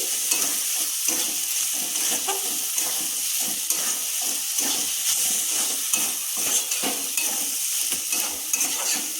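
Pieces of katla fish are stirred with salt in a hot pan, giving a continuous sizzling hiss broken by soft, irregular scrapes and tosses of the spatula, close and fairly loud, with no talking.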